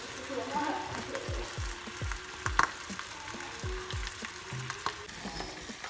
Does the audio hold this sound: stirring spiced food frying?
yes